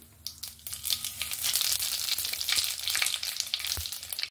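Panch phoron spices frying in hot oil for a sweet-sour-spicy mango pickle, a steady close crackling sizzle with scattered sharp pops, continuous and loud throughout with no talking.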